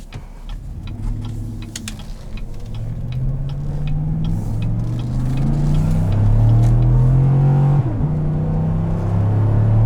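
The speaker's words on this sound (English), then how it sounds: "Put it into neutral here, give it a little rev" A 2017 GMC Sierra All Terrain pickup's engine revs in neutral, a loud, close rumbling idle that climbs in rising pitch sweeps, briefly drops back and rises again, with faint ticking above.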